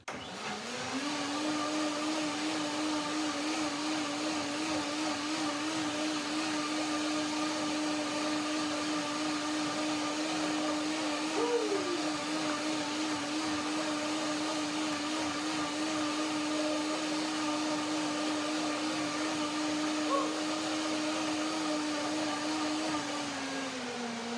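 Electric blender running steadily to blend a chocolate cream with dressing for buckwheat pear granola, a loud continuous motor whir lasting throughout with a brief pitch wobble midway and no talk.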